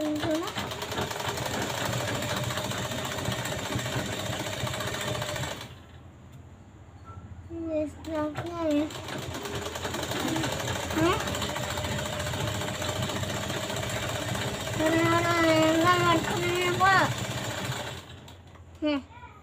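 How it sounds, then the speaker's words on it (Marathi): A sewing machine stitches a puff sleeve seam in steady whirring runs, pausing briefly midway and near the end, with someone talking over it at times. "आणि एक शिलाई मारून घ्यायची आहे आपल्याला"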